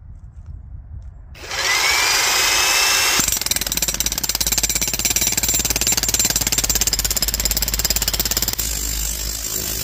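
Corded power tool, likely an impact driver or drill, powered by an EcoFlow Delta 2 portable power station, starts after a quiet moment and runs loud and continuous with a rapid hammering rattle, close by and with no talking.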